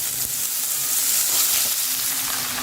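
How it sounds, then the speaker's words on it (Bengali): Chopped bottle gourd pieces drop into hot oil with tempered spices in a pan, giving a loud, steady sizzle and frying crackle close up with no talking. "এবার এর মধ্যে আমি কুচিয়ে রাখা লাউয়ের টুকরো দিয়ে দিচ্ছি"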